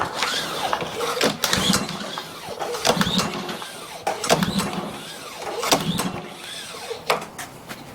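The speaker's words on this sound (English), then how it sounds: "push this to start and give it a pull" A Ryobi pressure washer engine is pull-started repeatedly, with several rhythmic recoil-cord pulls that give mechanical whirring and rattling bursts, close and moderately loud, but the engine does not catch.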